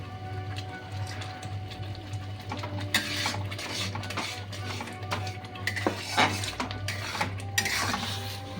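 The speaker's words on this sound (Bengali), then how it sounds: "এইভাবে নাড়তে হবে, তা না হলে তলাটা কামড়ে যাবে" A spoon scrapes and clinks against a pan as semolina halwa with cashews and raisins is stirred, irregular scraping strokes and metallic knocks close by over a steady low hum, with no talking.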